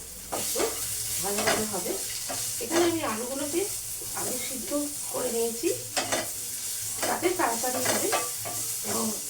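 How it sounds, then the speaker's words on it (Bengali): Potatoes with turmeric frying in a pan, a steady close sizzle broken by repeated scrapes of stirring, with a voice talking over it throughout. "আলুগুলো একটু ভাজবো একটু ভাজা ভাজা হলে এর মধ্যে দেবো হলুদ"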